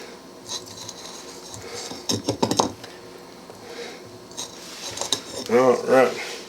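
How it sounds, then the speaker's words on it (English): Onions are dropped and scraped into a crockpot being prepared for lemon pork chops with Brussels sprouts and carrots, bringing a burst of clattering and rustling, then scraping and ceramic clinks, close by with faint room noise. "we're going to put the onions in here."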